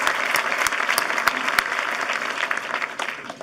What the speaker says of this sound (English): let's all give Elizabeth a round of applause